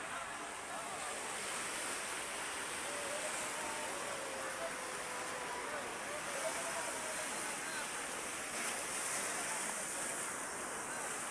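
Continuous wash of sea waves and surf where a river meets the sea at Real, Quezon, broad and steady, with faint voices murmuring underneath.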